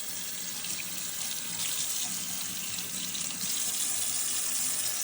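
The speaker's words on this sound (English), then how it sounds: "we're going to go ahead and rinse it under some water" An iPhone 15 Pro rinsed under a running tap, a steady close hiss of flowing water that keeps going without a break, no talking.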